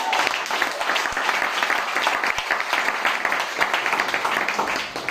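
A church congregation claps and cheers loudly during a worship service, a dense, continuous roar of applause and voices sustained without a break.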